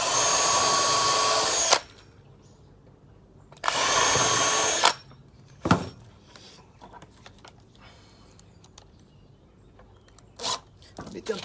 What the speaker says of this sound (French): Et je perce en 4.